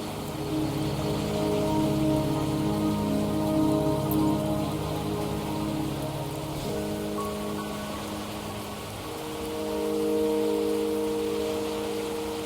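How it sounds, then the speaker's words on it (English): Steady rain falling across an outdoor scene in the video game Wuthering Waves, a continuous close hiss with sustained musical tones layered beneath, no talking. "Don't worry, the rain won't last much longer."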